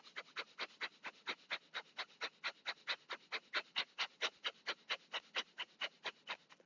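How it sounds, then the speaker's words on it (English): Breath of fire yoga breathing: rapid, evenly spaced sharp sniffing breaths, about four per second, close and steady throughout with no talk. "Let's practice breath of fire here, in and out like a sniffing dog."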